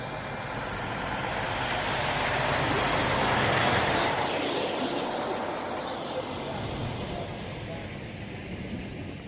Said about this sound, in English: So let's see, we got a truck coming up.